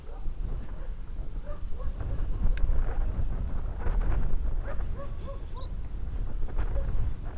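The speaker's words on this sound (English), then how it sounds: "quite windy" Gusty wind buffets the microphone outdoors in Goondi with a low rumbling roar, steady throughout, while faint bird chirps come through in the distance.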